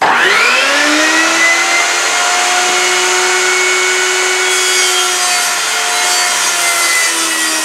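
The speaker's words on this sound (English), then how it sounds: "So I cut another piece of bone." A power saw cutting through a piece of bone for a knife handle, a steady loud whining drone with a slight pitch drop as the blade bites in, sustained for several seconds with no talk.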